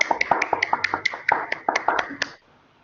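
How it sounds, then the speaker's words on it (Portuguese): An audience at an academic biology presentation applauds: a short burst of sharp, irregular hand claps from a few people close by, lasting about two seconds before fading into quiet room tone. "Podemos aplaudir a apresentação?"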